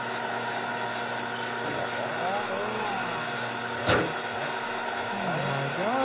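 A car engine in the video game My Summer Car revs with rising and falling pitch sweeps over a steady mechanical drone, with one brief loud burst midway.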